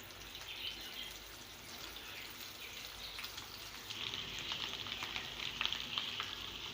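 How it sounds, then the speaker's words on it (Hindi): Mini flower-shaped samosas dropped one by one into well-heated oil over a medium flame, giving a steady, fairly quiet crackling sizzle throughout with no voices. "ऑयल को हमने अच्छे से गर्म कर लिया है। एक एक करके ये समोसे हम इसमें डालते जाएंगे।"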